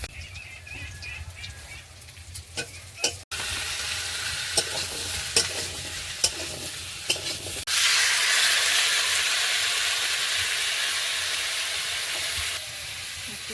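Garlic and green chili tempering sizzles in hot oil, a steady loud frying hiss that swells sharply partway through, with stirring clatters over it.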